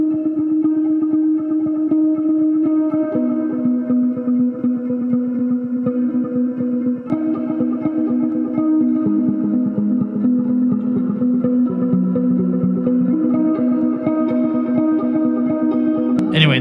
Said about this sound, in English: let's see Deep Space Echo